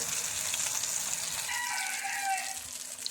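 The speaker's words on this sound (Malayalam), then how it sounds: "ഒരു സൈഡ് ഫ്രൈ ആകുമ്പോൾ മറു സൈഡും കൂടി നമുക്കിത് തിരിച്ചിട്ട് കൊടുക്കാം" A vegetarian fish-style fry sizzles in a pan as a faint, steady hiss of frying oil, with a soft crackle rising slightly partway through.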